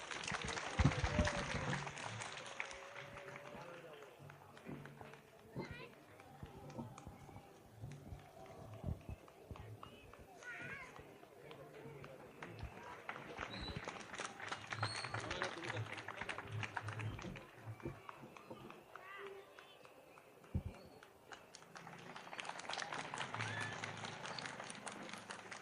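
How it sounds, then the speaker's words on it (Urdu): An audience at a religious gathering claps to welcome guests onto the stage, a dense rattle of applause that swells, dips and swells again, heard from a distance with talk mixed in. "تالیوں کے ذریعے سواگت کرے بھائی"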